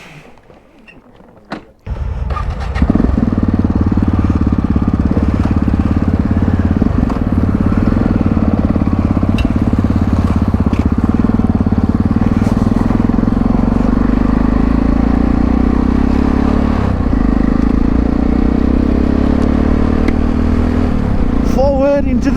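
Motorcycle engine running on a road trip, a loud steady drone starting after a brief quiet moment and continuing with little change, with a voice talking over it.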